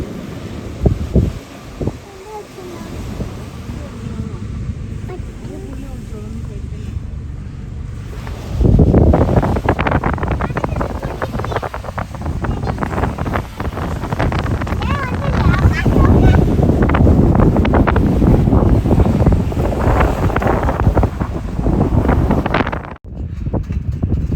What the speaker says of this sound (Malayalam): ഇതാണ് നമ്മൾ പോകുന്ന ബോട്ട്